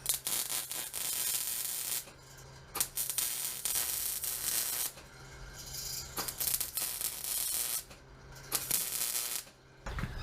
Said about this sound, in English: I'm going to finish weld this guy here